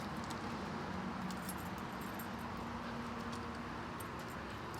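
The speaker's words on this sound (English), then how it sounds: "I'll keep all the keys together here." Motorcycle keys jangling together, a quiet metallic rattle beneath steady street and traffic noise outdoors, no talking.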